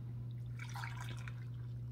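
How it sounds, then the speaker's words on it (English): Coffee poured from a Hamilton Beach FlexBrew 2-way coffee maker into a cup, a soft brief trickle over a steady low electrical hum, faint and without speech. "let's pour a cup of coffee"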